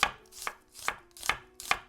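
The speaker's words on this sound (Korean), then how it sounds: "양파를 빨리 썰어서" A knife chops onion quickly on a cutting board for a Mediterranean chickpea salad, sharp close knocks landing in a steady rhythm about every half second with no talk.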